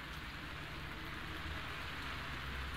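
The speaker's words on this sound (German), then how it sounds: "Es regnet im Bikini Bottom." Steady, even rainfall in the video game Those Who Remain hissing continuously on surfaces, a dense unbroken wash of raindrops with no voices.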